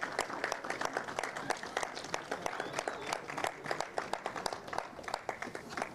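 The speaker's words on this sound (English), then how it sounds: "Please give a huge round of applause for Jayan Prakash." A crowd at a karting race podium ceremony applauds a class finisher, a fairly faint and distant wash of steady clapping with a busy outdoor background.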